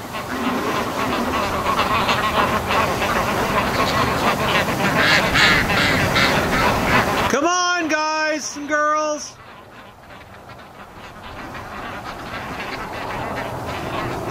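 Three loud, nasal duck quacks ring out close by midway through, after a long stretch of noisy rumble, followed by quieter ambience.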